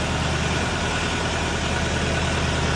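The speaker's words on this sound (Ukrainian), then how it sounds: "зроблений перший запуск двигуна." A new Dongfeng 404G2 tractor engine idles steadily up close after its first start, a constant low, chugging rumble with no pauses and no voices.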